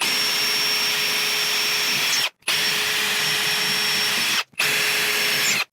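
A power driver whines steadily at high speed driving a screw through backing board into a stud, in three close, loud bursts separated by brief pauses, with no talking.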